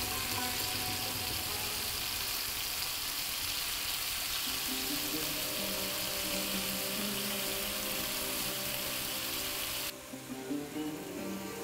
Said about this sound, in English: The pan is pretty hot, so I'm going to be adding shrimp one at a time